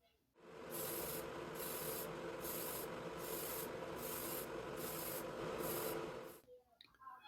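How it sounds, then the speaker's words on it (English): Clear coat paint sprays onto a Honda NSX R body in a paint booth, a steady hiss broken by repeated short bursts of spray, close and continuous with no talk. "I applied the clear coat to the body"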